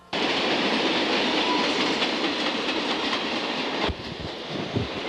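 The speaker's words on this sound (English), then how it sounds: "I hear a train coming." A train rolls past nearby in a loud, continuous rush of wheel and rail noise, easing slightly toward the end with a few clunks.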